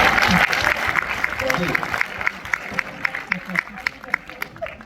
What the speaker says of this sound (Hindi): जरा एक बार अध्यक्ष जी के लिए भी तालियां बजा दें